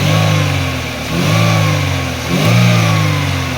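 A repaired manual-transmission Chevrolet Aveo engine, fixed for hard starting and low power, revs up three times in steady swells with smooth rising and falling pitch, loud and close, with no talking.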